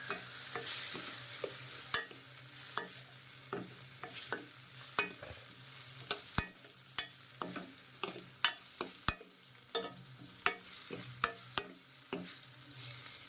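Tomatoes get stirred into a fenugreek leaf curry in a pan: a soft, low sizzle runs underneath while a spoon knocks and scrapes against the pan in irregular, sharp clicks, with no speech.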